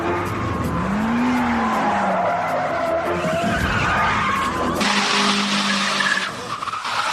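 Mitsubishi sports cars skid and spin during a film stunt, with long, loud tire squeals and roaring engines sweeping across several seconds, then a harsher burst of skidding noise near the end.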